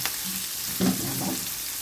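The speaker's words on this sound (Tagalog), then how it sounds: "Hanggang sa mag-brown yung bawang tapos maamoy mo yung mabangong aroma ng ricado." Garlic and onion sauté in hot oil for ginisang mongo, a soft steady frying hiss with a brief louder stir or toss partway through, close and alone with no talk.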